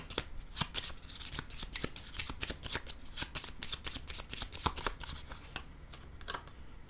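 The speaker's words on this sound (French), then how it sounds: "Je vais déposer une carte sur lui aussi." Tarot cards handled and laid down on a table, a dense run of crisp papery slaps and shuffling flicks up close, with no voices.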